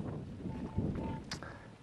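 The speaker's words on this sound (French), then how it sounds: "le vent se lève" Steady wind buffeting the microphone outdoors, a low continuous rumble with gusty swells and a brief hiss near the end.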